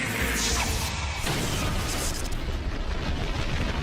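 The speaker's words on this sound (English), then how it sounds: "The resulting spark ignites the deadly mix of fuel and air. Disaster strikes. The explosion blows out one of the inner panels." An aircraft fuel tank explodes during the TWA Flight 800 disaster, a loud, dense roar of blast noise that holds steady for about four seconds with no letup.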